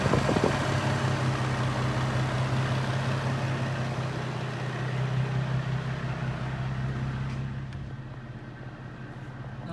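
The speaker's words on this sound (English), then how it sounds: "the fans are working. They're coming on at 207, I think" A Nissan 350z HR with a newly installed Mishimoto radiator idles steadily with its radiator cooling fans running, a continuous low engine hum under a broad airy fan whoosh that eases slightly near the end.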